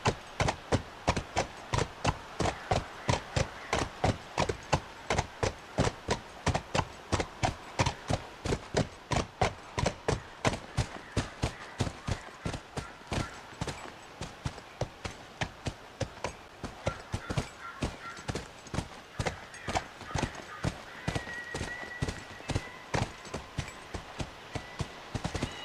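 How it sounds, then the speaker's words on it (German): Steady, regular hoofbeats of a ridden horse in The Last of Us, clip-clopping in a fast even rhythm close by for the whole stretch, with no talk over them. "Wir reiten zum Innenhof."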